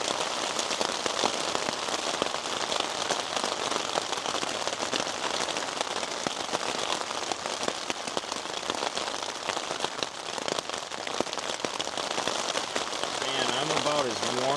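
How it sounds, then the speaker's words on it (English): Rain drums on a shelter built from packing material during a storm, as a dense, continuous patter of crackling drops close overhead. The downpour stays even throughout, with a person talking quietly beneath it. "that sound of the rain is so good inside of this"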